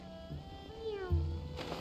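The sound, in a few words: cat meowing in Genshin Impact video game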